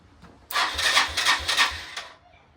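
Motorcycle engine cranking over about one and a half seconds, a rhythmic whirring starter with four or five regular pulses, loud and close, then stopping without catching.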